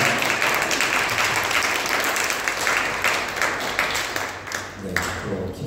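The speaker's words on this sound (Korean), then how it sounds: "다시 한번 큰 박수로" Congregation applause at a mission Sunday worship service in a Bali church, a dense, steady wash of many hands clapping that holds loud for several seconds before thinning slightly near the end.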